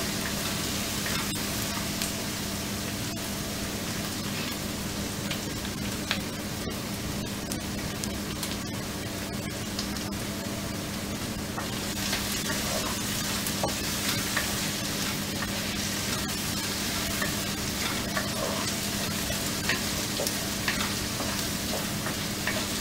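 Onion and garlic frying in a pan, a dense, steady sizzle that holds loud and close without a break, with small crackles and the occasional stir.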